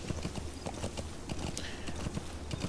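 Horse hooves clip-clop at a steady trot in Metal Gear Solid V while riding through the Afghan desert, a quiet, regular rhythm of soft thuds with faint ambient background and no speech.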